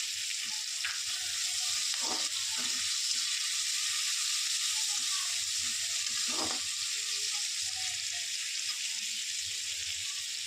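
Chopped green chillies sizzle steadily in hot oil while being fried for a shol fish dish, a continuous bright hiss with occasional stirring clinks, close and even throughout.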